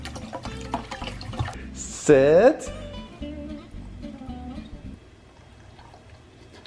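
Sparkling water is poured for a dog in one short, bright gush lasting about half a second, set among people talking and a brief spoken command.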